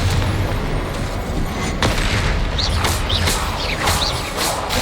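Confringo blasting spells exploding in the video game Hogwarts Legacy, several sharp booms and crashes in quick succession over a busy combat background.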